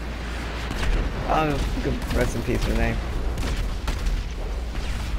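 Fireworks exploding in GTA 5 Online during a cemetery funeral gathering, a series of booming bursts and crackles mixed under several people talking and laughing over the game.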